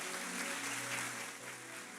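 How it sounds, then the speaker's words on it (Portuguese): A church congregation at a Pentecostal service in Campinas applauds together, a dense, steady patter of clapping at moderate distance that holds for a couple of seconds without speech. "Vamos aplaudir Jesus,"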